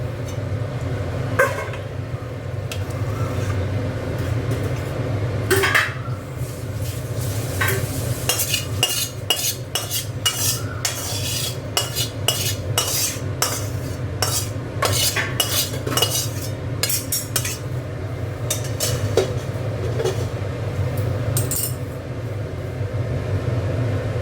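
Cooked shol fish (snakehead) is poured and scraped from a pan into a serving dish, giving repeated metal clinks and scrapes of utensils against cookware over a low steady kitchen hum, with no one speaking.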